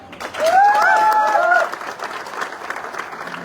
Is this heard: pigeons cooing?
no